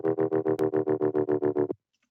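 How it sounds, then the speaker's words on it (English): A buzzy, heavily distorted tone from a house music track pulses in about a dozen even, rapid beats, then cuts off abruptly into silence. "So it's just like a bunch of harmonic distortion"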